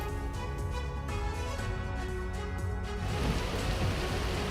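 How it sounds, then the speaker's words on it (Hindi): Heavy rain pours down in Rajasthan, a dense, steady hiss of water that swells louder partway through, with no talk. "उदयपुर, भीलवाड़ा और बाड़मेर सहित कई जिलों में भारी बारिश हुई है"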